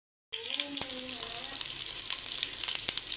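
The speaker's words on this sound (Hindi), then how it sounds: "अभी ज़ीरा डालते हैं।" Cumin seeds hit hot oil with browning onions and garlic-ginger paste in a pan, setting off a sudden, steady sizzle with crackling pops, close and continuous throughout.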